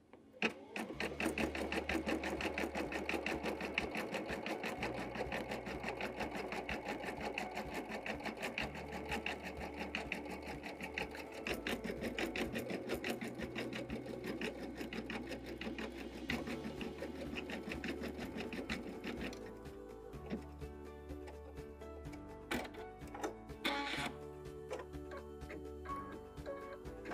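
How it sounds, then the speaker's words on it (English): An embroidery machine stitches a decorative satin stitch over a flamingo appliqué, a steady, close mechanical whir with fast ticking needle strokes that runs without a break for the whole stretch and has no talk over it. "the machine's going to go back and do the decorative stitch on top"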